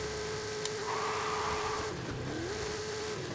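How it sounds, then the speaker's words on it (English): A modified Ford Bronco launches and accelerates hard in Forza Horizon 5. A loud, continuous engine pitch holds, dips at a gear change and climbs again, with some tire noise. "Now let's launch this thing."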